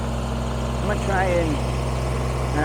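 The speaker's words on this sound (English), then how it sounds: "the tractor's doing a fine good job moving these things" A Kubota BX23S compact tractor engine idles with a steady low rumble throughout, while a voice briefly speaks over it.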